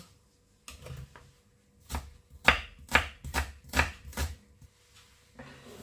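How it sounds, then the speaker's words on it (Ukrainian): Quick knife chops finely dicing onion on a cutting board, a burst of sharp taps in an irregular rhythm with short pauses, close and clear. "І нарізаю дрібнесенько так само цибулю."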